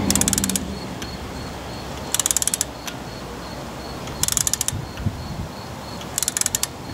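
A ratchet clicks in four quick bursts as valve cover bolts are torqued down on a Saturn SL2 DOHC engine, each burst a rapid run of close, sharp clicks separated by pauses, with a steady low background hum.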